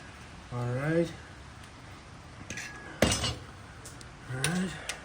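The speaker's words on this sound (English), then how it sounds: "now the nut. Put the nut on there." A nut threaded and tightened during a coilover spring install on a car, giving a few sharp metallic clinks and scrapes, with people talking and exclaiming around the work.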